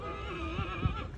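A large horse neighs at a Punjab horse show, a single drawn-out whinny with wavering pitch, fairly close and clear over a steady crowd murmur, with a couple of soft thuds partway through.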